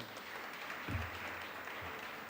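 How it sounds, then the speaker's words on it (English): Audience applause during an entrepreneurship development program session, a soft, diffuse patter of clapping that stays steady and fairly distant for a couple of seconds with a brief low thump partway through. "Give him a good round of applause."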